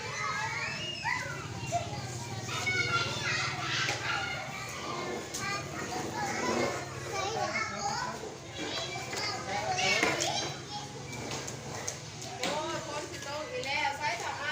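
Kindergarten children play and chatter together after school, a lively stream of overlapping young voices and shouts at moderate distance, steady throughout with occasional louder calls.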